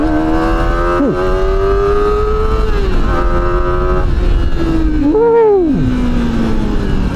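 QJMOTOR SRK250RD motorcycle held in first gear under full throttle, a loud steady engine drone rising and dipping in pitch as it revs, with a brief rev change near the end, over heavy wind rush.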